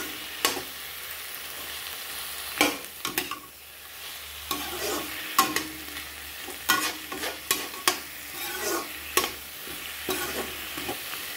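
Fish head frying in a home kitchen pan, with intermittent stirring scrapes and clatters over a low, steady sizzle, close and moderately loud.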